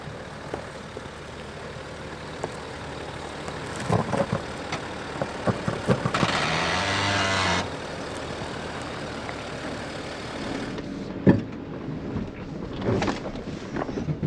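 A Land Rover engine rumbles in first gear off-road, mixed with wind buffeting on the microphone, a louder surge of noise midway and scattered knocks.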